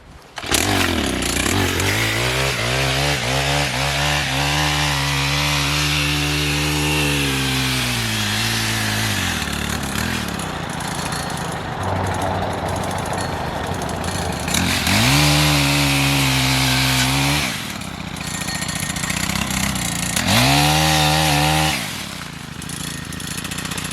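Stihl Kombi power head running its pole saw attachment through a tree branch, a loud, continuous two-stroke engine drone that revs up and bogs down repeatedly as the chain cuts, heard alone and near.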